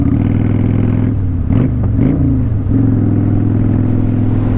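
Motorcycle on the road, its engine rising and falling steadily as the bike rides along, loud and close, with a few brief revving surges and rattles partway through.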